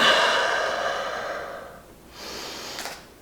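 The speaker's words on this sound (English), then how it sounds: "And breathe." A long, audible exhale during a hip-opening yoga stretch, close and breathy, fading out before a softer second breath follows.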